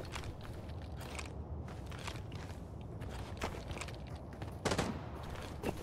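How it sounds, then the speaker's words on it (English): Scattered gunshots crack out during a squad raid in the video game Arena Breakout Infinite, coming in short separated bursts at a moderate distance, with a louder cluster near the end over steady background noise. "Oh, someone's shooting."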